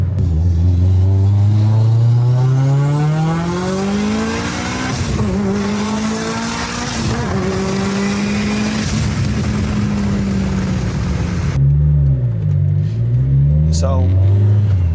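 A Nissan GT-R on a standalone engine tune revs hard while being driven, its engine note climbing through gears with sharp shifts and a brief lift-off near the end, loud and close, with a voice talking over it.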